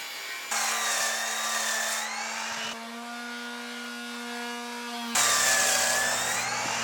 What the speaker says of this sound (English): I'll be using the miter saw to get my wood to the correct size